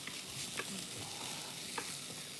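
Chopped onion frying in a pan as a gluten-free ham pasta gratin is prepared, giving a steady, dense sizzle with a couple of faint stirring scrapes, close and even throughout, with no talking.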